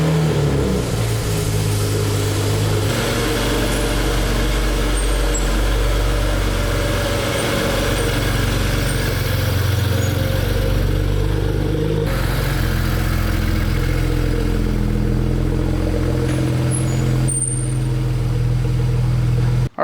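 A modified BMW 335i with a loud exhaust revs hard and alone for about twenty seconds, its deep rumble swelling and falling through repeated throttle blips before settling back to idle.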